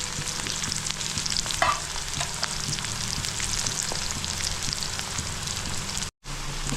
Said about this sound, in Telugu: ఉల్లిపాయలు రెడ్ కలర్ వచ్చేంత వరకు చక్కగా దూరంగా వేయించాలి.